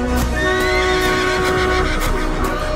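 A horse neighs loudly and clearly, with hooves clip-clopping underneath; a close, full sound with no talking.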